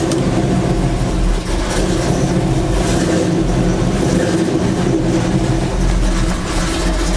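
Chevy C10 truck engine fitted with an Edelbrock AVS2 carburetor runs steadily and loud up close, a continuous low rumble with slight swells in revs throughout.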